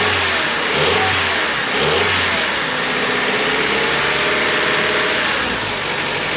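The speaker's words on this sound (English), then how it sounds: "It's asking to rev the engine," A car engine revs up loudly twice in quick succession during a Foxwell BT705 battery test, then settles into a steady, rumbling idle close by.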